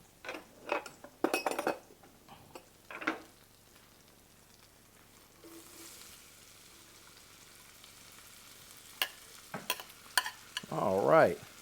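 Onions frying in a pot for New Orleans grits and grillades, a low sizzle under intermittent scraping and clanking of a spoon stirring against the pot, with a busier burst of stirring at the end.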